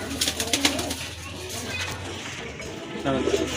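Pigeons coo in low rolling murmurs at a pigeon garden where birds are sold, with a few sharp knocks and rustles in the opening second and near the end, and no one talking.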